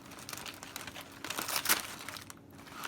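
A freshly delivered hand-tied flower bouquet being unwrapped, with close, continuous crinkling and crumpling of the wrapping that swells into a louder rustle midway. No voices.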